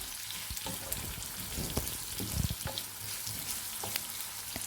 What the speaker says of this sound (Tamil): வெங்காயம் சேர்த்துட்டு இப்போ நம்ம வதக்கி விட்டுக்கலாம்.